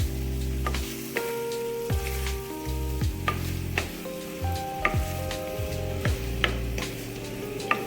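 Spices sizzle and fry steadily in hot oil as a tempering for drumstick leaf pulusu, with fenugreek powder in the pan, a dense close crackle with scattered sharper pops and stirring scrapes.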